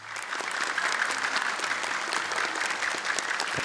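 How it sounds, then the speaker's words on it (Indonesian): An audience applauds for contestants on an Indonesian Quran-memorization TV show, a dense, steady roar of clapping that holds evenly throughout. "Boleh tepuk tangan untuk mereka?"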